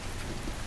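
Steady rain falling at night along city streets in Queens, New York, heard as a dense, even hiss with no voices.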